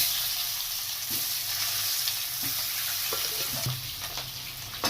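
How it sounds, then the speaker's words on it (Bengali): Potatoes frying in oil alongside duck eggs, a steady loud sizzle with occasional soft knocks of stirring, close and continuous throughout. "আর আলুগুলোকেও একসাথে ছেড়ে দিলাম এর মধ্যে ভাজা ফ্রাই হওয়ার জন্য"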